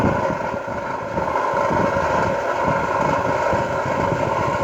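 An electric oil spinner machine for draining fried shallots, chips and crackers runs with a steady, loud, smooth motor hum and whirr, continuous and unchanging with no talking.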